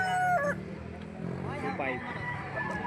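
A rooster crows at a busy poultry market in Padre Garcia, Batangas, loud and nearby, with clucking fowl and other bird calls behind it and people talking throughout.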